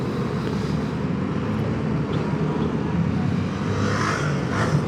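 Road traffic in Rosario heard from a moving Honda Beat V3 scooter on Michelin Pilot Street 2 tires: a continuous loud engine and road drone with wind noise, passing vehicles swelling briefly toward the end.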